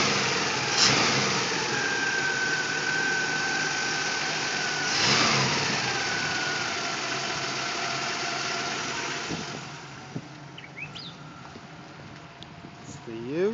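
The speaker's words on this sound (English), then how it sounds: "Okay, there's the engine." Holden 186 red six-cylinder engine idling and revving in an HR Ute, a close, steady mid-pitched running note with a couple of throttle rises before it settles, and someone talking over it.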